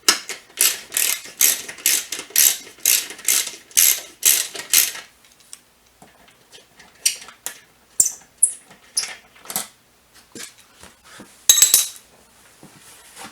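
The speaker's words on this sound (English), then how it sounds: "There's just this one bolt holding it on and a tongue in front. So we're just going to loosen this up. On mine it's a 8mm socket." An 8mm socket on a ratchet loosens the seat bolt of a Kawasaki Vulcan 800 motorcycle, giving a fast run of crisp, close clicking strokes, then sparser clicks and metallic clatter.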